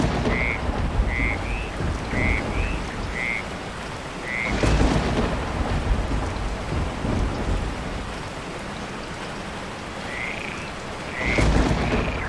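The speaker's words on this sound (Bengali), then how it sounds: "সেই রাতে মুষলধারে বৃষ্টি হলো পুরো সকাল পর্যন্ত" Heavy rain pours steadily through a night thunderstorm, with two deep rumbles of thunder and frogs croaking in short bursts against the downpour.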